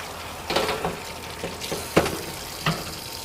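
Tap water runs into a kitchen sink during hand washing, a steady soft hiss with a few brief louder splashes and clunks as hands move under the stream; no talking.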